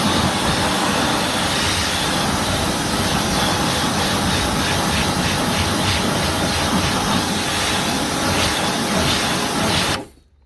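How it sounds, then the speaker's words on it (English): A pressure washer sprays a car wheel in a loud, steady broadband hiss and roar that runs without a break for about ten seconds, then cuts off abruptly. "We give our wheel a nice thorough rinse"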